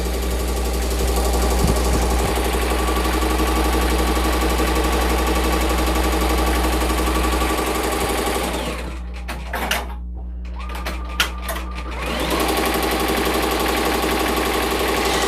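A Tajima Sai multi-needle embroidery machine stitches a design onto an apron, giving a steady mechanical drone that briefly drops and stutters midway, with a few sharp clicks, before the even running resumes.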